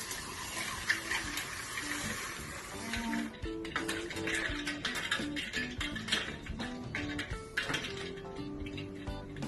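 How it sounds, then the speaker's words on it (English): Cold water pours and splashes into a metal pot of boiled eggs while dishes clink and knock, with a few sharper clatters partway through. "we'll add cold water so they can stop cooking"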